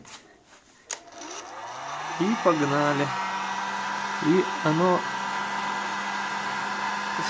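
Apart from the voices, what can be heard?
hair dryer melting coating on a car body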